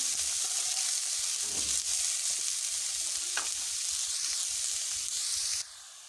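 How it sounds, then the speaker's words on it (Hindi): Sliced onions fry in oil for potato karahi, a continuous loud sizzle and hiss close by with a few light stirring sounds, dropping slightly in level near the end. "फ्राई करेंगे। प्याज को हमने लाइट ब्राउन करना है, तकरीबन 2 से 3 मिनट लग जाएंगे।"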